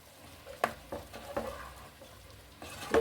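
Green peas kurma frying in a pan with chili powder, a few short stirring scrapes and soft sizzle bursts, close and fairly quiet, with no talking.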